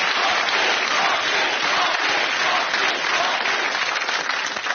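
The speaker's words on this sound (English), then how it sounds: "A round of applause for Hot Meat." Studio audience applause, loud dense clapping sustained evenly throughout without a break.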